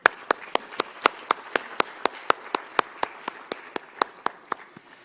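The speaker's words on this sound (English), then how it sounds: "A huge round of applause, please, for all our incredible winners tonight" Clapping greets the winners at a business awards ceremony honouring Chief Minister Chandrababu Naidu, heard as sharp, evenly spaced claps in a steady rhythm of about four per second, close and clear.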